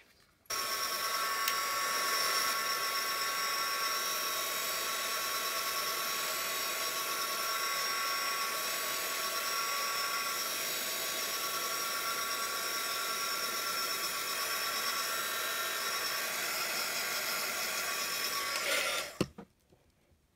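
A handmade paper butterfly card is dried with a steady, loud whirring blower, likely a heat tool or hair dryer, running continuously for nearly twenty seconds before cutting off abruptly.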